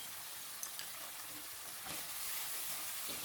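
Canned fish being stir-fried with oyster sauce, soy sauce and sugar over medium heat gives a steady, soft, broad sizzle, with faint scrapes of stirring now and then.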